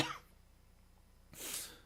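A Korean church preacher coughs during a Wednesday worship sermon: a quick hack at the start, a quiet pause, then a louder, harsher throat-clearing cough, with no speech between.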